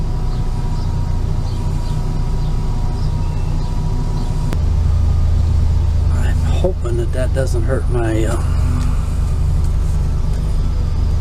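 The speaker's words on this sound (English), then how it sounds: "now I got my truck started" A started pickup truck engine idles steadily with a low rumble throughout, while someone speaks briefly over it partway through.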